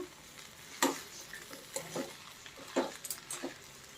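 Vegetables frying in hot oil for a traditional Bhogi mixed-vegetable dish, a soft steady sizzle broken by several sharp stirring scrapes and clatters close up.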